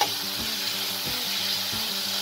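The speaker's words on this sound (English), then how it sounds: "Just keep mixing on high flame." Tawa pulao rice with boiled peas and vegetables stir-fried on a griddle over high flame, a steady loud sizzle with rhythmic scraping strokes of the spatula.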